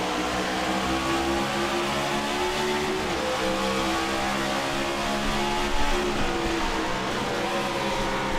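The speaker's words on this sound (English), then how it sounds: "Listen to the car." Race car engines roar at New Hampshire Motor Speedway in an Area Cup Series race, a continuous loud, buzzing drone that rises and falls as the cars work through the corners.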